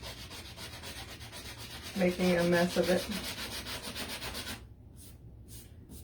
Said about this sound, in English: I'm just going to take a sanding block and try to take this off